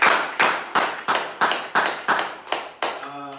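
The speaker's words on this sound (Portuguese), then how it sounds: "Então eu queria pedir uma salva de palmas para esse Deus maravilhoso" A church congregation claps in unison, about nine sharp, evenly spaced claps in a steady beat, ending as a sustained musical tone comes in.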